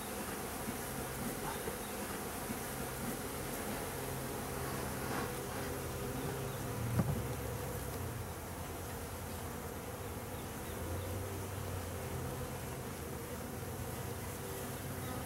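Honey bees from newly installed packages buzz around a farm pollination hive. A faint, continuous insect hum of many wings persists evenly throughout, with one brief louder knock near the middle.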